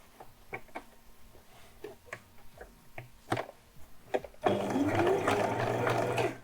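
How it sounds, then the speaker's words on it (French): A home sewing machine stitches an 8 mm seam on fabric. First come scattered light ticks and clicks as the machine is set up, then a loud continuous whirring run of stitching close by. "Et je couds à 8 mm."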